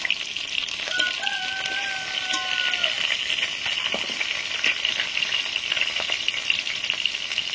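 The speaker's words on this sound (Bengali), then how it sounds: "রুই মাছ ভাজা হয়ে গেছে, তুলে দিচ্ছি।" Rohu fish sizzles steadily in hot oil while pieces are lifted out, a dense close hiss running throughout, with a rooster crowing briefly in the background near the start.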